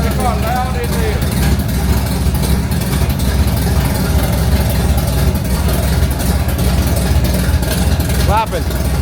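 A loud 1969 Chevelle SS 454 idles with a steady, heavy, deep rumble, close and constant throughout, with people talking over it.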